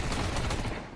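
MP9 submachine gun fire in Counter-Strike 2 at a BLAST Premier match between Liquid and G2, a rapid, loud burst of shots running almost the full second before tapering off, with no talk.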